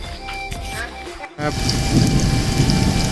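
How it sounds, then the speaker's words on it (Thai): Rain falls in a steady hiss of drops spattering on surfaces, rising sharply after a short dip and continuing loud and close with faint background tones. "ตอนนี้ฝนตกอยู่นะครับ"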